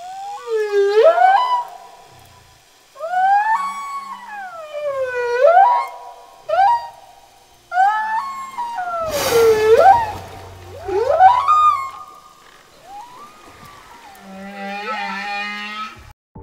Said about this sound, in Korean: 이게 고래의 소리가 노래를 하는 것처럼 들리는 이유입니다